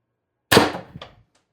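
A single sharp shot from an X-68 Storm Trooper blaster build, a loud close crack that decays quickly, followed by a faint rattle, with silence around it.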